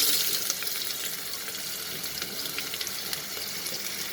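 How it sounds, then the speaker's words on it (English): Dried red chilies and sliced onion dropped into hot mustard oil for keema khichdi, a steady bright sizzle close by with light crackles and pops, no voices. "I'm using mustard oil to cook the keema, and as I'm going to add these dried red chili and half of the onion."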